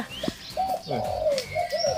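A spotted dove coos close by in soft, rolling phrases, with a few faint chirps from other birds in the background.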